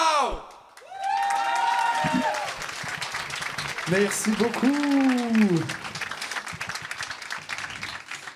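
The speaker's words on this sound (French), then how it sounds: "On peut les applaudir plus fort que ça, s'il vous plaît" A concert audience applauds and cheers at an intimate live show, the clapping sustained throughout, while someone speaks over it and sings or vocalizes in bursts.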